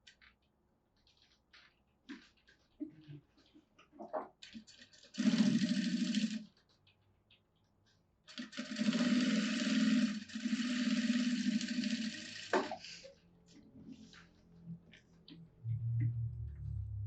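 Sewing machine stitching a seam along fabric lining, two sustained bursts of fast mechanical whirring and ticking separated by quiet handling clicks, close and clear.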